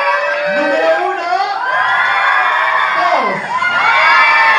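A team of children at a group event cheers, shouts and whoops loudly together, a dense continuous crowd roar with rising and falling voices throughout, likely mixed with clapping.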